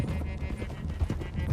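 Horses' hooves clip-clop in the video game Red Dead Redemption 2, several animals moving in an irregular muffled rhythm, close and moderately loud.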